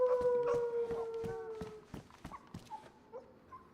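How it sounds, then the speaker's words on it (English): Dogs in the survival game DayZ let out long, wavering howls that are close and loud at first, then break into shorter yelps and whimpers that fade over a few seconds. "never heard them howl like that before."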